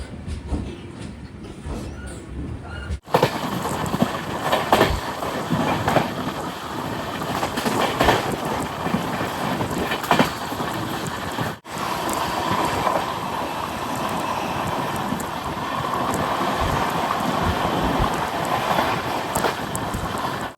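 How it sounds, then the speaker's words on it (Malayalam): The Amrit Bharat Express, heard from inside a sleeper coach, rolls toward Tambaram railway station. A constant loud rumble and rattle of the carriage runs throughout, with rhythmic clatter of wheels over rail joints. "768 കിലോമീറ്റർ യാത്ര ചെയ്ത് ട്രെയിൻ ഇപ്പോൾ ഇതാ താമ്പരം റെയിൽവേ സ്റ്റേഷനിലേക്ക് എത്തുകയാണ്"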